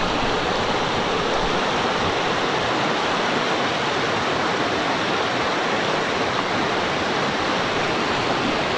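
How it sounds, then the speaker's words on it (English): A back-country river in New Zealand rushes steadily, a dense, loud, continuous wash of flowing water that holds unchanged throughout with no voices over it. "Look at that river, absolutely fantastic."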